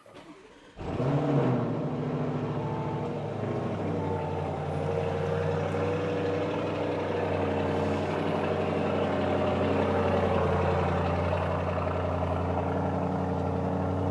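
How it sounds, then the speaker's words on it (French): A Lamborghini Urus SUV starts cold, opening with a sharp burst as the engine fires, then settles into a loud, steady, deep idle that holds close and unbroken for over ten seconds. "je vais vous faire écouter, guys, le cold start du Urus"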